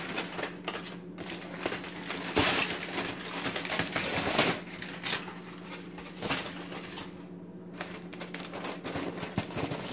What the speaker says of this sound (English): I'm just gonna take the foil off.